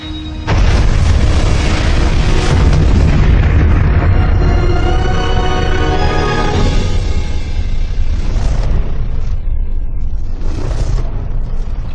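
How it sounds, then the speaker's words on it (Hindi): A hypernova star explosion sound effect starts with a sudden massive boom, then a deep, loud roaring rumble that sustains for around ten seconds with swelling bursts near the end. "ये धमाका इतना जबरदस्त होगा कि हम इसे आसमानी आतिशबाजी भी कह सकते हैं"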